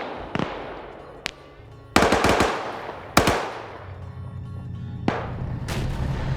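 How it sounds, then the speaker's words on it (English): BMP autocannon fire in a PvP shooter: five or six sharp, loud bursts land at irregular intervals, some in quick double-taps, each trailing off into a low rumbling echo. "hearing more BMP fire coming in"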